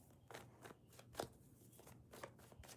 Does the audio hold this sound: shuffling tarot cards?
yes